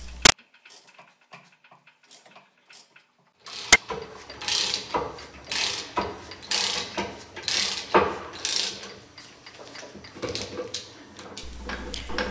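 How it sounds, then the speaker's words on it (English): A ball joint press screw on a Ford F450/F550 front axle ratchets and clicks in repeated bursts as it is tightened to push out the ball joint, with metallic mechanism noise after a quiet opening. "Continue to tighten the press screw to remove the ball joint."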